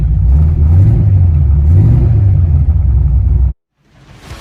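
A 1990 Ford Mustang GT Foxbody with a swapped carburetor rumbles loudly from inside while driving, its engine rising and falling through revs before cutting off abruptly, with no talking.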